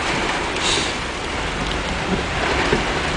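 A heavy night rainstorm pours down in front of a store downtown, a dense steady roar of falling rain, loud and close, with no voices.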